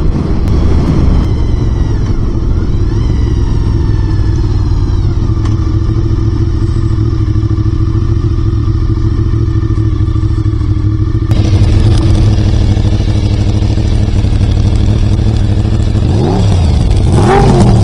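Honda VFR750 motorcycle engine revving, a loud close continuous roar that climbs toward 6000 rpm and jumps in intensity partway through.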